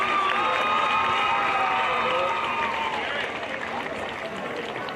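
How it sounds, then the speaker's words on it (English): Crowd cheering and applauding at halftime of a Clinton vs Odessa high school football game after a Kick for Cash attempt, a loud dense wash of clapping and shouting that slowly fades over a few seconds. "Let's give another round of applause to Gary O'Rourke for his attempt."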